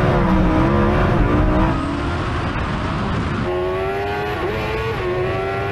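Loud motorcycle engines, one a Kawasaki, roar and rev hard in a straight-line drag race, pitch climbing steadily, with a second high whine rising after a brief drop midway through.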